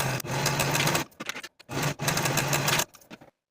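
A home sewing machine stitches bodice shoulder seams for a spring dress in two fast, close runs of about a second each, separated by brief pauses and ending in a short final burst.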